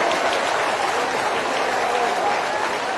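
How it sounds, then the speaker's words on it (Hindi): Sustained, dense applause from a large crowd at a political rally in Gohad, Bhind, a continuous roar of clapping that holds evenly loud for about three seconds. "तो तालियों की गड़गड़ाहट से खोलवाओ।"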